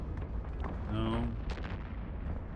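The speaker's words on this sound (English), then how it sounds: "See, they're shooting. They're shooting my other guy here." Ships trading fire in EVE Online, heard as a brief run of booming weapon blasts with a rising tonal whine in the middle of the clip, loud against a steady rumbling game backdrop.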